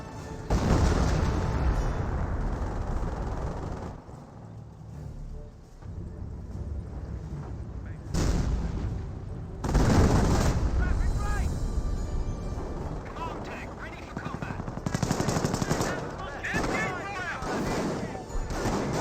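Artillery barrage and gunfire from a commando unit in the strategy game Company of Heroes, a dense run of booms and crackling shots rolling on and off, with a voice talking over the battle.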